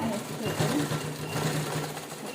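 A sewing machine stitches old shirt fabric into an apron with a close, steady whirring buzz, and a voice talks over it.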